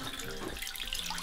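Water runs steadily from a tap in a run-down Blackpool hotel room, a continuous close splashing hiss into the sink with no talking.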